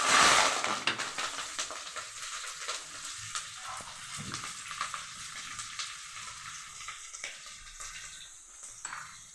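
Mustard seeds, cumin and curry leaves frying in hot oil as a tempering for a raw prawn curry, crackling loudly at first and then settling into a steady sizzle with small pops, with no talking.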